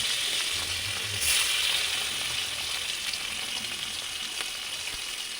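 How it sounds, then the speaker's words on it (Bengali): Fish sizzle steadily in hot oil in a wok during Bengali home cooking, a constant close crackling fry with no talking. "হালকা করে মাছগুলো একটু ভেজে নিয়েছি।"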